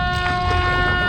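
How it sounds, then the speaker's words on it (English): A loud, sustained boat horn blast on Wroxham Broad, Norfolk, with a rich, steady tone over low engine rumble, close by and uninterrupted. "I think that bugger just honked at me."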